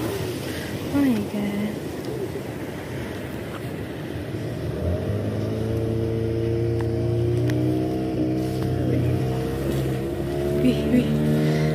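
A motorboat heading to Kunti Island in Ciletuh Geopark, Indonesia, drones steadily with a low hum that holds a rising tone, over open wind noise, with a few bird calls faint in the background.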